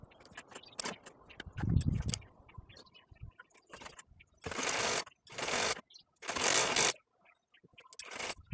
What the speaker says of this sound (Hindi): तो मैं अब सिलाई शुरू करती हूँ।